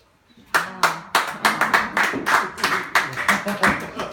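A run of sharp hand claps, about a dozen, fairly close and loud, coming in an uneven quickening rhythm.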